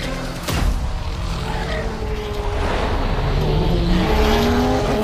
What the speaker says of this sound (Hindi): खोसला भाई ने कितना स्मूथली यू टर्न लिया।